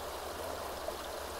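A rising creek swollen after heavy rain flows steadily on a farm, a continuous close rushing wash of water with no break and no voices.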